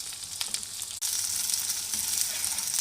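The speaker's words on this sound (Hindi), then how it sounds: "भिंडी को अच्छी तरह फ्राई करेंगे।" Okra sizzles and fries steadily in a hot pan for bhindi gosht, a dense continuous crackle with a brief break before resuming loud and close, with no voices over it.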